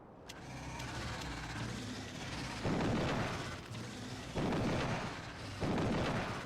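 A Tesla gun fires in the modded factory-building game Factorio, giving three loud crackling electric bursts at roughly even intervals over a steady mechanical hum.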